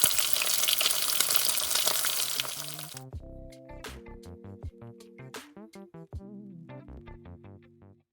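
Broad hissing sizzle of reheated fish in a frying pan for about three seconds, then a quieter stretch of clinks and tonal kitchen clatter with the frying faint or gone.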